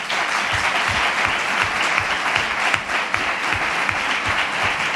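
An audience at a 2019 Izquierda Unida candidacy presentation in Ronda claps in sustained, dense applause, loud and continuous throughout with a few louder individual claps standing out.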